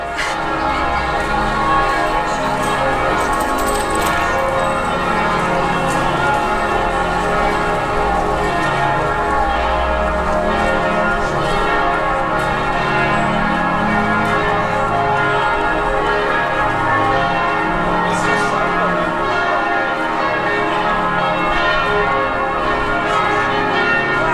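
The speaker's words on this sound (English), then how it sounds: "They do like a bell out here." Church bells ring in Salzburg's old town, a dense, continuous peal of overlapping clangs that fills the scene at moderate distance, with faint crowd murmur and voices underneath.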